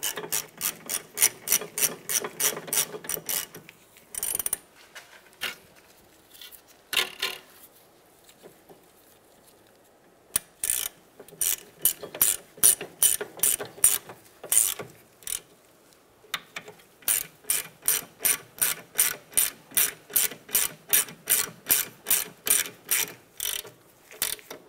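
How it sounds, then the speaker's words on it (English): A hand ratchet snugs up bolts on a 2003-2011 Honda Element during a parking brake shoe job, with bursts of fast, evenly spaced clicks that pause and resume several times, close and clear with no talking. "We'll snug these up and we'll come back and torque them down."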